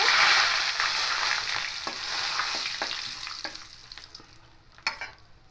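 Whole garam masala and two bay leaves hit hot oil with a spoonful of ghee, giving a bright, close sizzle that is loudest at first and slowly fades, with a few sharp pops and crackles near the end.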